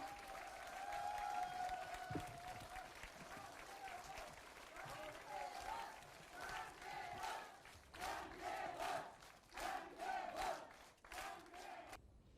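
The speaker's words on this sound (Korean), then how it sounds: "여러분 다시 한번 큰 박수 부탁드립니다" A crowd at a political rally applauds and shouts, with bursts of clapping and chanting voices, recorded faint and somewhat distant.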